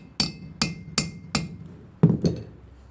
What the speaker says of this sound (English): you're going to give it a tappy tap with a hammer